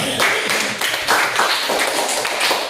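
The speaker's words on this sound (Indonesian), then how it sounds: "Tepuk tangan untuk kita semua." A classroom of students clapping hands together at the end of a lesson, loud close dense clapping with slight irregular pulses, no speech over it.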